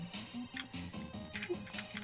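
A small manual desk sweeper rolls over eraser crumbs, giving a close, steady rattling whir in quick repeating pulses.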